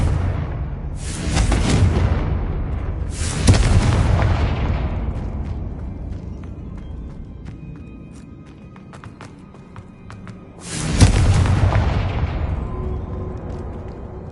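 Fiery explosive bursts from a spell in Hogwarts Legacy, three loud blasts each followed by a rumbling decay, with sparkling chimes and ambient game tones between them.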